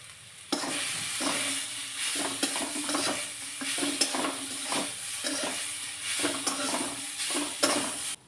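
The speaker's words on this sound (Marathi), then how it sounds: "एकदम सुटसुटीत होईपर्यंत चटणी परतून घेतली." Green chili chutney is sautéed in a pan, with repeated close scrapes of a spatula stirring through a steady sizzle in an uneven rhythm, and no voices.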